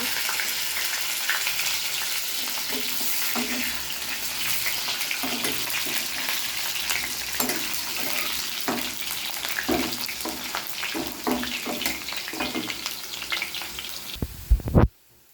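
Small whole potatoes fry in hot oil in a pan, giving a loud continuous sizzle with crackles and occasional stirring scrapes, ending in a sharp clatter.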